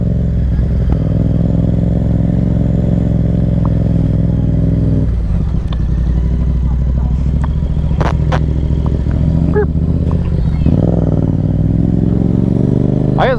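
A 2024 Yamaha MT-07 motorcycle rides through a quiet neighborhood, its engine droning steadily and loud throughout with a few brief clatters and a slight rise in revs near the end.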